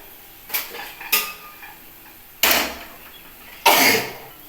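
A cooking pan set onto a lit gas stove during home cooking, with a few separate clanks and scrapes of metal, two soft ones followed by two louder, sharper knocks, close by and otherwise quiet.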